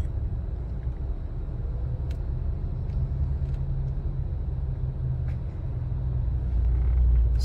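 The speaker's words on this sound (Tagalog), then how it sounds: "Super traffic." Heavy road traffic in La Trinidad near Baguio, with big, large-engined jeeps crawling along, makes a continuous low rumble of engines close by that swells slightly toward the end, with no voices.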